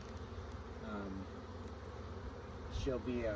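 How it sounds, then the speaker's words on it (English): Honey bees buzz at the entrance of a beehive where guard bees stand watch. The low, steady hum of the swarm continues close by, and someone talks over it in short bursts. "So there'll be guard bees, they'll guard the entrance"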